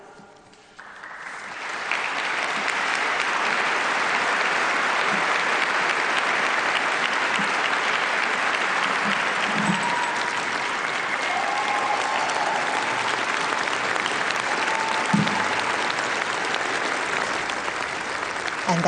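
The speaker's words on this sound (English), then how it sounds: "We are seeing a big round of applause, a standing ovation for Sesko Thurlow." A large audience breaks into long, loud applause and a standing ovation after a speech by an atomic bomb survivor at the Nobel Peace Prize ceremony, the clapping swelling in within two seconds and holding steady, with faint voices underneath.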